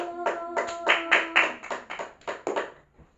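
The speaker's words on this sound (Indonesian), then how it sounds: "Tepuk tangan dulu" Children in a second-grade classroom clap together in about ten distinct, rhythmic beats that are close and fairly loud, then stop.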